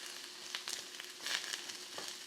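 Mushrooms frying in a home pan on a small burner give a steady, quiet sizzle, with a few crisp pops and crackles and no voices.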